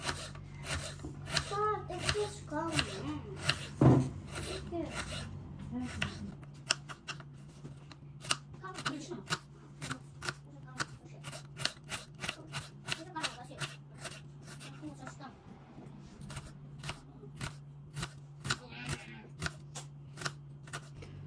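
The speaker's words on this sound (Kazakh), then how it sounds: "Енді жуамызды көбіктеп турап аламыз." An onion is chopped finely with a knife on a board for meatless cabbage cutlets, with quick close taps that settle into a steady rhythm of separate knife strikes, and a voice talks at times.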